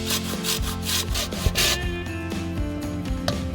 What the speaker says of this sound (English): I can grate the lemon peel into small pieces